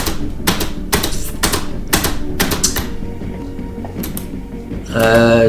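Computer keyboard typing during a Minecraft recording: bursts of quick, close, clattering keystrokes in an irregular rhythm, pausing briefly before a louder jumble of sound at the end.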